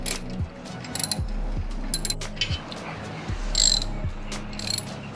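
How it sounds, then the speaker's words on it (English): A wrench works loose exhaust header bolts on a Yamaha R motorcycle, giving repeated ratcheting clicks in short bursts with brief metallic scrapes, close and fairly quiet. "So with our wrench, we're gonna go right in. It's gonna start moving."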